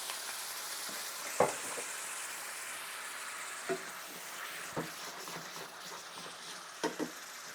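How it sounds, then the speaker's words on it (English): A pan sizzles steadily as white wine hits it to deglaze while cooking butternut squash, a continuous hiss with a few sharp crackles and spits scattered through. "We're just going to deglaze with that."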